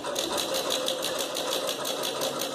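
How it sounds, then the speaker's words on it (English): A Singer sewing machine fitted with a walking foot stitches thick upholstery fabric for an ottoman, a steady close rhythmic motor hum with rapid regular needle beats running continuously without talk. "all I'm doing is sewing where I actually pinned around the corners, and that's all I'm doing right now"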